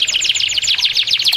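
A canary sings alone in a fast, bright run of repeated trills and warbling notes, steady and fairly loud without pause.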